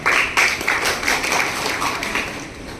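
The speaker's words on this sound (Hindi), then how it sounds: "तालियों से हमने अभिवादन कर दिया सबका" Clapping from an audience at a girls' school honouring ceremony, greeting everyone present; a short burst of scattered, uneven hand claps with distinct individual strikes, moderately loud and fading slightly.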